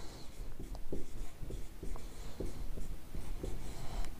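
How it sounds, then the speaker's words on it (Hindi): Chalk taps and scrapes across a board in short, quick strokes, a faint, close rhythm of clicks and scratches lasting a few seconds with no talking. "एक्टिव चारकोल लिख देता हूं मैं"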